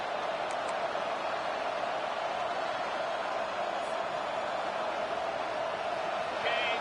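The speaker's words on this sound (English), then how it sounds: "the crowd really making some noise now, trying to help out this defense" A steady, continuous stadium crowd roar from a college football video game holds at an even level throughout, like a distant wall of cheering.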